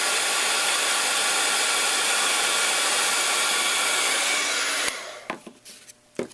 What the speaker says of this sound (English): then with our heat tool we'll go ahead and dry that